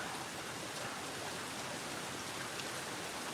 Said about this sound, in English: Just sitting on the porch, enjoying the rain.